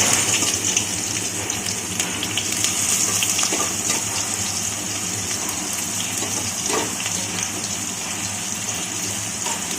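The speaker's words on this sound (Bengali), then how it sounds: "তেল আমাদের গরম হয়ে গেছে, এবার আমরা দিয়ে দিচ্ছি এঁচড়গুলো।" Chunks of raw jackfruit sizzling in hot oil in a pan, a loud, steady, hissing crackle that runs continuously without pause.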